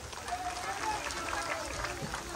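A crowd claps and cheers after a dance at a Home Minister Paithani game show held in the Hadapsar vegetable market; steady, dense applause fills the whole stretch, with voices mixed into the noise.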